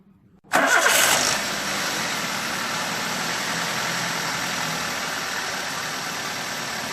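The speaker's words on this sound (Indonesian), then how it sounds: "Saya akan nyalakan mesinnya dan langsung putar setirnya ke kanan sampai habis." A Toyota Avanza or Daihatsu Xenia car engine cranks and catches with a loud burst, then settles into a steady, even idle, heard close with no talk.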